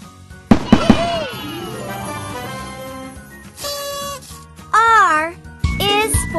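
A kids' learning app plays a cartoon rocket launch effect: a sharp pop, a rising whistling whoosh, then bright chimes and jingles, with a voice speaking over parts of it.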